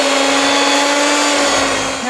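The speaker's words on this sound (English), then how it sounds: "And now we can start giving this a mix." Electric mixer whirring steadily through vanilla cake batter, a loud constant high-pitched motor hum close up that eases slightly near the end.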